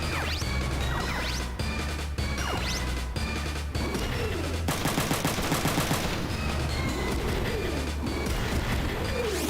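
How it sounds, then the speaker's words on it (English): Loud blasts and crashing impacts from a mech's shotgun in the video game Front Mission 3, landing as a string of repeated heavy hits over busy game music and effects. "Blast him with your shotgun."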